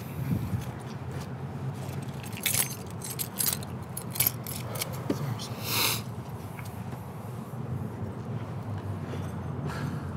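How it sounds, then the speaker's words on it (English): Car keys jangle and clink in small bursts throughout, fairly close, over a low background rumble, with no speech during the sound. "I need your keys from your car."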